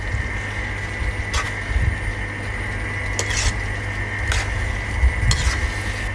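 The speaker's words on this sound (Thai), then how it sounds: "เติมวุ้นเส้นลงไป ผัดไปเรื่อยๆ" Glass noodles being stir-fried in a pan after seasoning with oyster sauce and MSG, a steady close sizzle broken by several short scraping clinks of a utensil against the pan.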